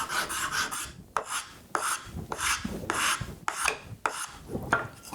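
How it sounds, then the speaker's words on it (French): Wood rasp shaping a wooden tenon: rhythmic, close rasping strokes, about six to seven firm passes with short pauses between them, no voices. "Alors là je le fais à la râpe parce que j'ai la râpe"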